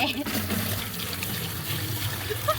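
Water is scooped and poured in trickling, splashing bursts under an ongoing voice, with a steady low background hum.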